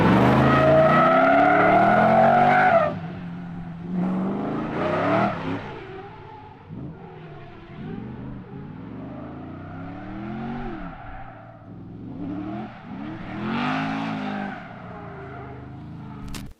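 Drift car at a drifting competition accelerating on throttle, a loud, near engine roaring and revving in repeated rising surges, with no talk over it.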